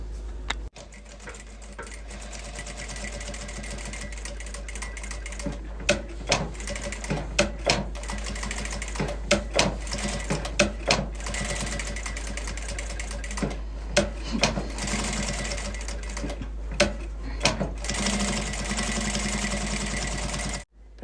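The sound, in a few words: sewing machine stitching fabric with backstitch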